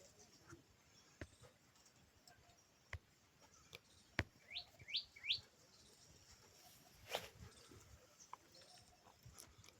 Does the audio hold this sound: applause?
no